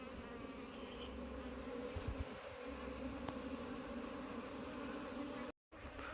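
Apis cerana honeybees buzzing steadily and close throughout during a transfer of an aggressive colony, a dense continuous hum broken by a brief dropout near the end.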